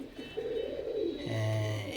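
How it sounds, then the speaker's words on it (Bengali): Pigeons coo close by in low, soft, rolling calls, one after another over a quiet background. "বাড়িতে আজ আমি কিছু কবুতর দেখাবো, ব্রিডিং পেয়ার"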